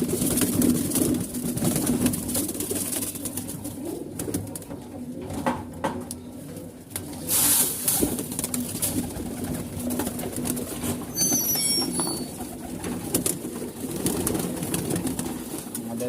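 Pigeons coo repeatedly in a loft or coop, soft rolling calls overlapping against a busy background of rustling and movement, with occasional sharper chirps.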